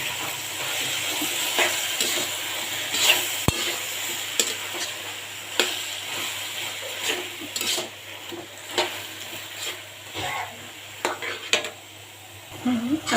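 Roasted taro leaves going into a pan and being stirred, with a low frying sizzle under repeated scraping and clinking of a utensil against the pan, fairly close and continuous.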